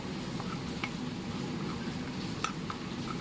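A spoon stirs a dry spice filling with added salt for Kathiyawadi stuffed chillies, giving soft scraping and a few light clinks against the bowl, with one sharper tap near the end.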